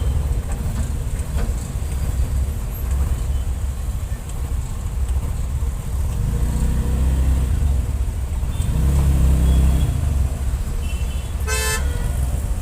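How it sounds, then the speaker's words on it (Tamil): Heavy midday road traffic in a Tamil-speaking area, with a steady low rumble of engines throughout, idling and revving vehicles swelling around the middle, and a sharp car horn toot near the end. "இப்போவும் வந்து பார்த்தீங்கன்னா இந்த அளவுக்கு டிராஃபிக் இருக்குது."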